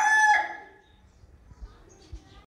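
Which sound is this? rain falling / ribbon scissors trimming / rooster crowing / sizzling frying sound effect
rooster crowing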